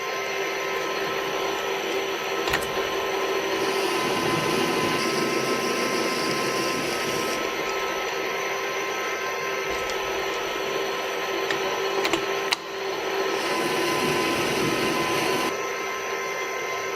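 A metal lathe takes a deeper internal cutting pass, giving a steady, continuous machine whir and hiss that holds for the whole stretch, with a few brief clicks and a slight shift in tone near the end, with no voices.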